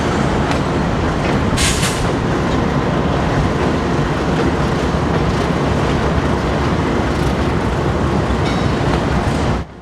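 BNSF freight trains roll through the Galesburg classification yard, a continuous loud, close rumble with steady wheel clatter and metallic squeal that runs the whole time, with no voices.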